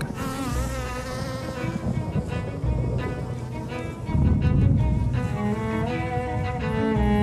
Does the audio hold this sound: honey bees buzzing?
yes